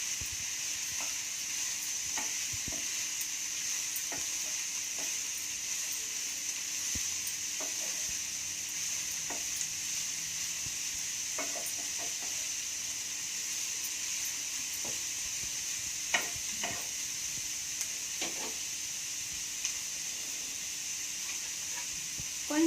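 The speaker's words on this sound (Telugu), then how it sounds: "ఉల్లిపాయ ముక్కలు వేసి ఒకసారి తిప్పుతాము." Onion pieces sizzle steadily in a hot pan with a constant hiss, and a few scattered clicks and scrapes come from them being stirred.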